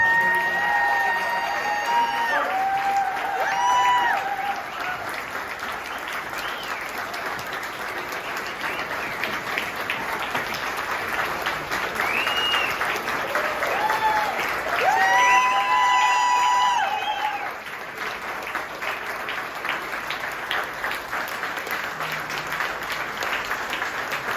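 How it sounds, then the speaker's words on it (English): Sustained audience applause and cheering for award recipients at a nonprofit awards celebration, a long, dense roar of clapping with whoops and shrill shouts rising twice over the crowd. "Let's give them a big round of applause."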